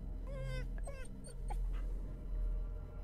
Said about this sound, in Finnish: This must be Ariane's dog Nibble. He's stuck in a trap but he's still moving.